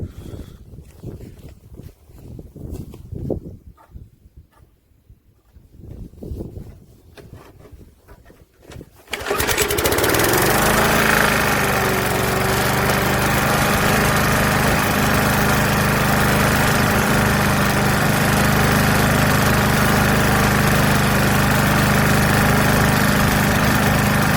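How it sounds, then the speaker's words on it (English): A dirty old Rover lawnmower cold starts after a few seconds of quieter outdoor handling noise, its engine catching abruptly and settling into a loud, steady, rough idle close by that runs on without a break. "we're going for another cold start and we'll just see if some of that smoke's cleared up"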